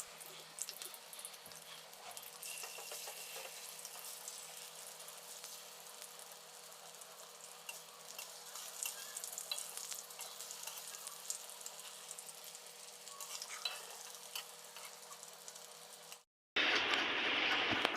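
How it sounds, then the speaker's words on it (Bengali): Egg frying in a pan beside a pot of dried fish being sautéed, a soft steady sizzle with faint crackles running on and on, then the sound shifts abruptly near the end to a louder, denser hiss. "ডিমটাও ভেজে নিচ্ছি"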